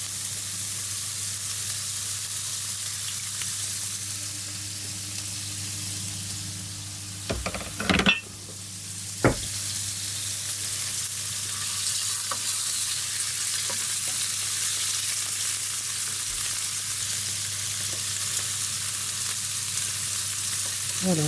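Small pieces of meat sear in olive oil with a continuous close sizzle; midway a brief cluster of clatters and scrapes from turning them breaks the steady hiss before it resumes.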